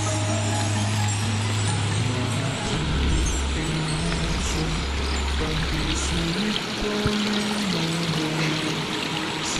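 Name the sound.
river flowing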